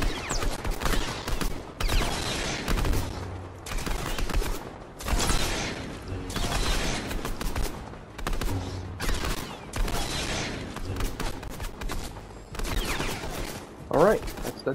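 Repeated bursts of gunfire reflected back in Fortnite, loud volleys separated by short pauses, continuing in rounds without voices.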